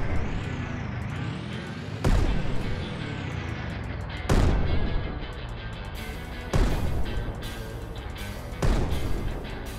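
Heavy tank cannons blasting in the Brick Rigs building game, four loud booming shots spaced about two seconds apart, each with a long rumbling decay over continuous mechanical noise.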